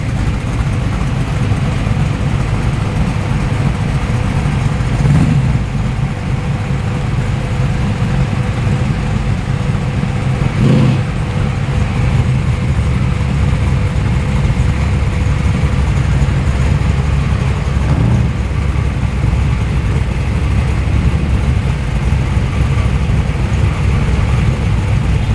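Tuner cars arriving at Bungarribee Park in Sydney give a steady low engine rumble and idle throughout, with a few brief louder surges as cars pass nearby.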